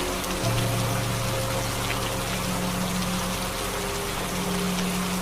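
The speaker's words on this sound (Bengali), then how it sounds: "রাতের বেলা এমনিতেই অন্ধকার, তার মধ্যে আবার বৃষ্টি।" Steady night rain in a Bengali horror cartoon falls as a dense, even hiss with a low droning hum beneath it, continuous throughout and with no voices.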